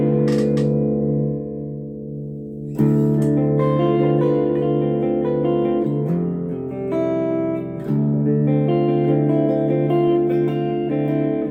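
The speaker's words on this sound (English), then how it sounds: "Let's go with a little bit of chorus, just a little bit. And I still got it on delay and reverb." An electric guitar played through a Boss Katana Mini X practice amp with chorus, delay and reverb rings out in sustained chords and notes, with a short pause and then fuller strummed passages, heard alone and up close.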